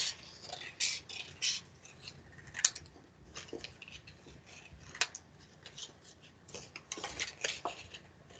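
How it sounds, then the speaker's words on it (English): Scissors cut out small drawn paper circles for a finger puppet craft, producing a long run of close, quiet, irregular snips and slicing crunches with brief gaps, continuing steadily throughout. "Cut out the little circles that I've drawn"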